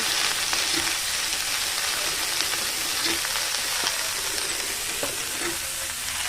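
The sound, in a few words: chichinga (snake gourd) frying with mustard seeds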